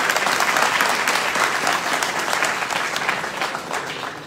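University debate audience breaks into loud, dense applause, many hands clapping continuously and fading slightly toward the end.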